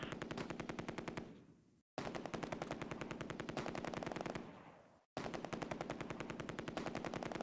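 Heavy sustained machine-gun fire from the Close Combat: A Bridge Too Far wartime video game, rapid continuous bursts filling the clip, loud and near, broken by two brief silent gaps.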